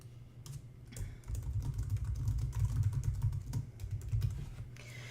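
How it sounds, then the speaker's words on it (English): Someone types a description on a computer keyboard in a rapid, steady run of soft key clicks. The clicking stays close and fairly quiet, with no voices. "I'm going to type in my description."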